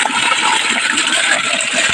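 River water rushes steadily and loudly past, a continuous close gushing flow with no talk, shallow in the dry season.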